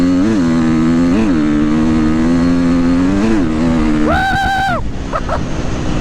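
A KTM 350 XCF dirt bike engine runs at full throttle, a loud close buzzing roar that rises and falls in pitch with several revs, then a sharp high over-rev burst near the end before dropping back.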